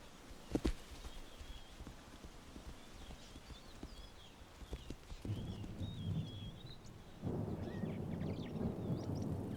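Rainy-season afternoon thunderstorm over the Masai Mara, with low rumbles that swell into a heavy, steady wash of storm noise partway through while birds chirp faintly in the background.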